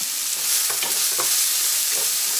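Grated coconut sautéing in a pan for Chettinad egg curry, a bright continuous sizzle with a few soft scraping stirs, close and fairly loud, no talk.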